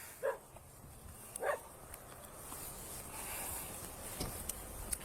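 A dog gives a couple of short, sharp yips early on, then goes quiet against a faint outdoor background with light rustling.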